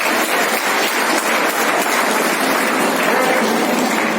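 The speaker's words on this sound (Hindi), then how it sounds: "जोरदार ताली बजाएं।" Loud, sustained applause from a school audience at an annual function and award ceremony fills the hall as a student is called to the stage, dense clapping with no voices.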